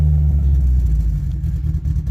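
Close by, the boosted Honda Civic engine keeps a lumpy, loping idle and a deep continuous rumble, with slight pulsing toward the end and no voices.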